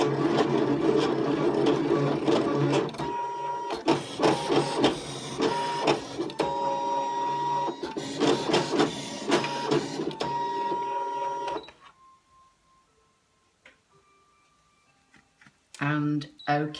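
A ScanNCut cutting machine drags its blade through card on a mat, a close buzzing motor with stepped rhythmic whirring bursts for most of the stretch, then near-silence and a short final burst.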